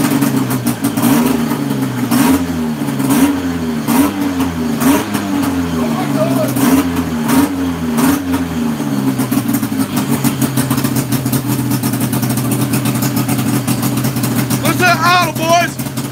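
The engine on a YAMAdog engine-swap build revving hard and repeatedly, loud rising and falling whines close by, then holding a steady high drone, with excited voices shouting over it.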